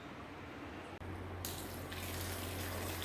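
Three litres of whisked curd poured from a container into another vessel, a steady close gushing liquid pour that starts with a brief break and grows fuller and brighter midway.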